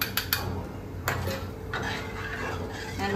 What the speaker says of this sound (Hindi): अब जो है हम इसे अच्छे से मिक्स कर लेंगे